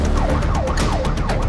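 Ambulance siren wailing loudly during an urgent emergency drive to a stroke call, its rising and falling sweeps repeating steadily over continuous road and engine noise from inside the vehicle.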